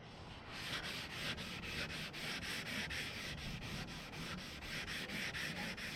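Wet sanding primer on an old Chevy truck body, a steady close rhythmic rubbing scrape of regular back-and-forth strokes with no talk.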